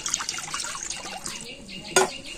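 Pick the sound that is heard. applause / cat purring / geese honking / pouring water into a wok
pouring water into a wok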